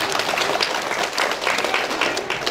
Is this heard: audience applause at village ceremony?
yes